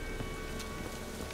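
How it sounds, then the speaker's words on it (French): Steady rain in The Witcher 3 video game, a continuous even hiss of falling drops with no pauses, heard on its own without any talk. "Il va pleuvoir!"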